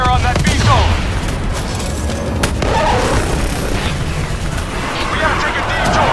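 Battlefield gunfire and explosions in Call of Duty Black Ops 3, a continuous dense barrage with booming low rumble and scattered sharper cracks throughout, without clear pauses.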